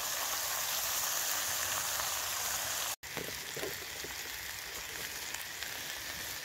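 Mushrooms frying in a Petromax wrought iron skillet at a forest campfire, a steady soft sizzle broken by a brief gap, after which fainter crackles and pops follow.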